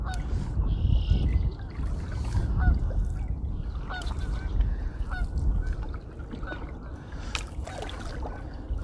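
Geese honk intermittently in a spring marsh at a moderate distance, scattered calls over a steady low outdoor hum.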